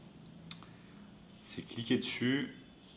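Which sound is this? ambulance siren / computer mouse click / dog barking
computer mouse click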